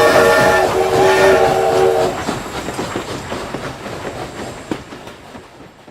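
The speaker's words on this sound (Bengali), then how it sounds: "বেলা 3টের ট্রেন ক্রুর ও আনন্দে ঝকঝক গুম গুম শব্দ তুলে দৈত্যের মতো চলে গেল।" A three o'clock train rushes past on a railway line in the afternoon, with sustained horn-like tones at first, then a loud rumbling clatter of wheels that gradually fades.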